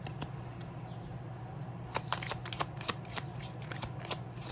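Tarot cards being shuffled and drawn, a soft continuous riffling with a run of crisp snapping flicks toward the end, close and fairly quiet over a low steady hum.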